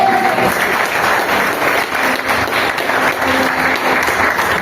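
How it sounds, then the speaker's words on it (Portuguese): A church congregation claps together in sustained, dense applause that fills the space evenly from start to finish, loud and without pauses. "Se você pode, aplauda o Senhor no nome."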